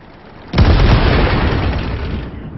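A single heavy cannon shot from an SU-122-44 tank destroyer in World of Tanks booms out suddenly and loud, then rolls off in a long, slowly fading rumble.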